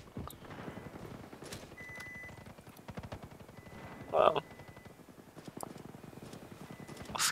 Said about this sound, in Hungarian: Ott van valaki lövöldözik.